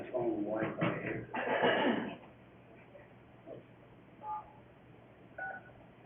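Telephone keypad tones pressed on a phone to enter star-six and unmute a city council conference line, a few short separate beeps coming after a stretch of voices talking.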